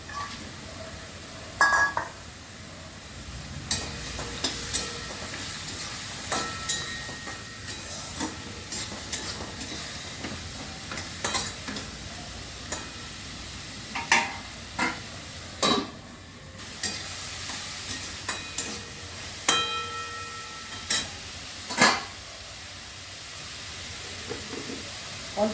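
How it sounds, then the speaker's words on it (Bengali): Fried lentil dumplings (bori) stirred into a pan of spinach, giving a faint continuous sizzle broken by irregular scraping and stirring clicks, close up with no talk. "ভাজা বড়িগুলো দিয়ে দিচ্ছি।"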